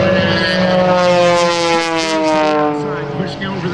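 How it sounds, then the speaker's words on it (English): A custom-built Pitts-based aerobatic biplane roars past at an airshow, its propeller engine droning loud and close with a gliding pitch shift as it passes, while a voice talks over it. "This is a custom-built airplane based loosely on that old 1946 designed by Curtis Pitts."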